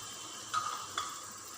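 Spices fry in hot oil in a pan with a soft steady sizzle, broken by two brief louder clinks or scrapes of stirring, close and fairly quiet.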